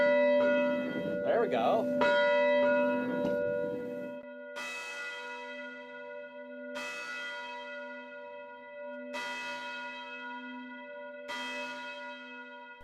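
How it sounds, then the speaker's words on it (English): Church bell rung by pulling its rope, a resonant ringing strike followed by four more evenly spaced tolls, each sustained and slowly decaying, with brief speech at the start. "So what's it like for you hearing this bell ring"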